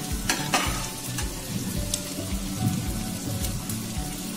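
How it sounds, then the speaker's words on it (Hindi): Potatoes and onions frying for desi-style noodles crackle in the pan while a spatula stirs and scrapes in a repeated rhythm, loud and close with no talking. "आलू ऐड करते उन्हें दोनों चंगी तरह मिक्स करके आलू थोड़ी देर भुनन देवांगे।"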